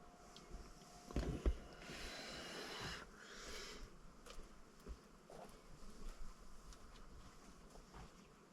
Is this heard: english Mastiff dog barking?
no